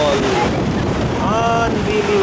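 Iguazu Falls at the Devil's Throat on the Argentine side: a steady, loud wash of falling water, buffeted by wind on the microphone, with faint voices drifting through.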